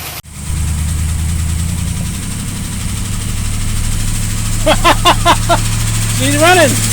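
The engine of a 1967 Plymouth Fury barn find starts and settles into a steady, loud, rumbling idle that runs unbroken to the end, with a voice talking over it in the later seconds.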